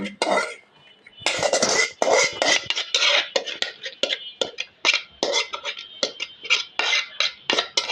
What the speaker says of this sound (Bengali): পায়েসটা এখন ঢেলে নিব।